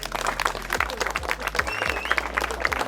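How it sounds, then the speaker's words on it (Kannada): Audience applause at a college event at Don Bosco, a crowd clapping steadily and fairly loudly throughout, with a few louder claps standing out. "ಅದಕ್ಕೆ ನಿಮ್ ಕಾಲೇಜಿಗೆ ಇನ್ನೊಂದ್ಸತಿ ಚಪ್ಪಾಳೆ ಬರ್ಲಿ"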